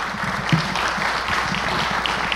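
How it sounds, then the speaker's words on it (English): An audience applauds after a legal safety presentation. The clapping is sustained and dense, a full room of hands at moderate distance, holding steady for the whole stretch with faint crowd murmur beneath. "So, big round of applause."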